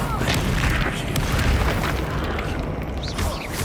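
A Confringo blasting spell exploding in Hogwarts Legacy, with a dense, rumbling boom and crackling debris filling the whole stretch, loud and continuous with no pause.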